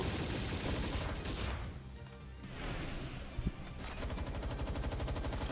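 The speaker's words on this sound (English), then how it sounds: "I'm actually running out of Gatling ammo." Gatling gun fire in the video game Palworld, a dense, continuous rapid stream of shots that dips briefly mid-burst and then resumes at full, steady intensity.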